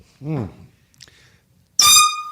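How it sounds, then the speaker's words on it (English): A brief voice is followed by a short pause, then a loud, brassy air horn blast that sounds close and piercing. "They get a toot of the air horn, but I want you to do it."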